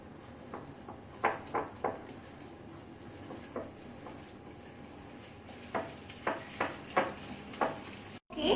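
A whisk beats eggs and milk in a bowl as a run of separate clinking strokes. The strokes come in two clusters with a quiet gap between them, then the sound cuts off. No talk.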